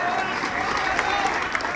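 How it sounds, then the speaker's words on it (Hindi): Crowd at a political rally clapping on cue, a brief dense burst of applause with scattered cheering and voices mixed in. "ठोको ताली"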